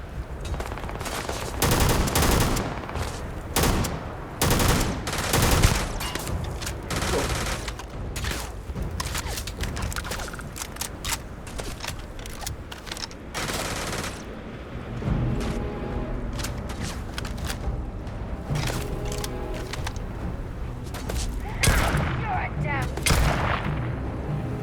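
An enemy shooting in the video game Starfield lets off loud, rapid bursts of gunfire in dense clusters that pause now and then before more volleys, with game effects and some talk mixed in.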